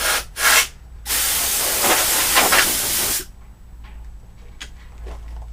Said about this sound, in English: I believe that's about as much as the compressed air is going to get with it.